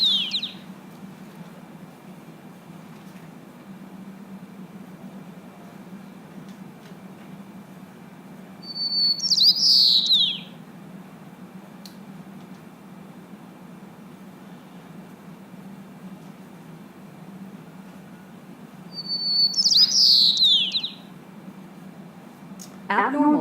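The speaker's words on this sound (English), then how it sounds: "White-crowned sparrow," A white-crowned sparrow's normal song rings out twice, about ten seconds apart, as short bright whistled phrases over a steady low hum of background noise.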